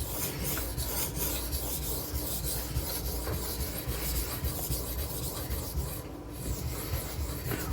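Steady rasping strokes of a Benchmade Redoubt knife blade drawn across a sharpening stone, working around the belly toward the apex, continuous and close with no talking.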